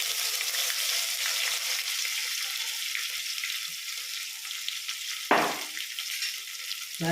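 Steady loud sizzling of ginger-garlic paste frying in hot oil, with a brief scraping stir near the end.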